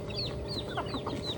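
A foster hen on a rural Thai mountain farm clucks softly, several quick rising and falling calls in a row, fairly faint against a steady outdoor background hum.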